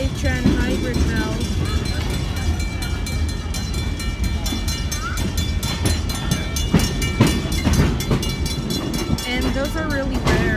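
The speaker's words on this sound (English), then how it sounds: "So we're on the Big Trees and Pacific Railroad beach train excursion." Big Trees and Pacific Railroad beach excursion train rolling along its tracks near Santa Cruz, a steady loud rumble with wheel clatter and rail squeals throughout, people talking over it.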